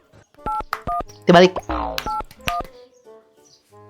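Mobile phone keypad dialing tones, a rapid series of distinct beeps with short gaps, close and clear, followed by a voice speaking briefly.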